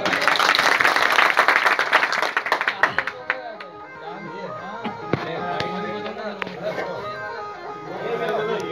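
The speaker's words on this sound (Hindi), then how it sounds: "तालियों से स्वागत।" A devotional audience at a Khatu Shyam bhajan gathering claps in welcome: dense, loud clapping for about three seconds that thins out as voices and music take over.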